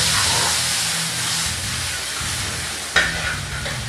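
Onions and garlic sauté in oil in a pan, alongside the preparation of pan-seared swordfish. The sizzle is a steady, close, broadband one with occasional stirring scrapes and a sharper crackle near the end. No one speaks.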